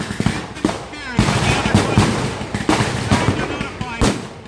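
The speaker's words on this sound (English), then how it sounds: "As the firing dies down" Rapid bursts of blank gunfire and sharp cracks at a D-Day bridge battle reenactment, irregular volleys close by and loud, with voices talking in between.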